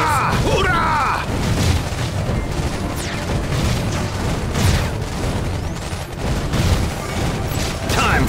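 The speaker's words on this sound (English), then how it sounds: "Grenade!" Grenade blasts and gunfire from the Iron Marines strategy video game, dull booms and rattling bursts layered over game effects in a continuous busy mix, with no clear pauses.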